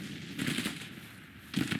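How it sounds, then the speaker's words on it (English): Skirmish gunfire in the Civil War strategy game Grand Tactician, two short bursts of distant crackling musket shots separated by a brief lull. "Not a lot of gunfire coming from here. It's just skirmishing so far."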